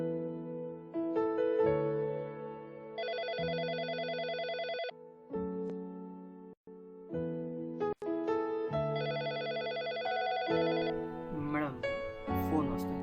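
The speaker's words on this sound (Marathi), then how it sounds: "फोन वाजतोय" A telephone rings in an office scene of a Marathi serial, two clear bursts of repeated electronic ringing over background music.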